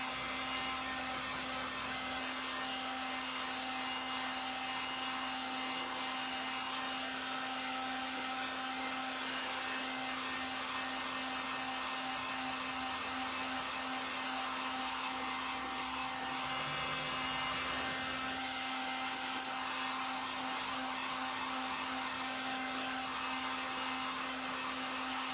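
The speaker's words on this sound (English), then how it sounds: "Sometimes even the heat gun will straighten out your creases, or your hair dryer if you don't have access to a heat gun." A heat gun drying a decoupaged vintage magazine rack blows a constant, loud whirring hiss with a steady electric hum, running unbroken for the whole stretch without talk.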